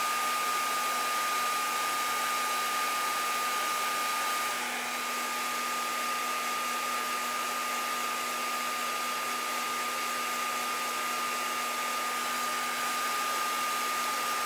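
A heat tool runs continuously to heat set embossed flowers for a card background, a steady whirring blower hum with a high tonal whine, even and close for the whole stretch.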